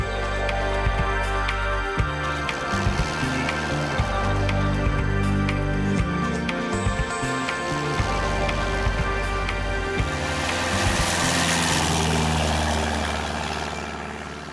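A Cessna light aircraft takes off from the Baramati airstrip, its propeller engine droning loud and close with a steady harmonic buzz that swells into a rushing roar toward the end.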